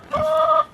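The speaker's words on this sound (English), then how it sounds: "6 black Australorp roosters, and we have 1 buff Orpington rooster." A black Australorp or buff Orpington rooster in a backyard homestead flock gives a single sustained, tonal clucking call lasting about half a second, close and fairly loud, with no talk over it.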